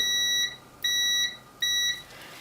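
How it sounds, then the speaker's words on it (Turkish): A shrill multimeter continuity buzzer beeps three times in a steady rhythm as its probes are shorted together, each tone lasting about half a second, loud and close with no talking. "İki tane probumuz şu şekilde kısa devre olduğunda duymuş olduğunuz gibi ses çıkaracaktır. Yani buzzer'da ses çıkacaktır."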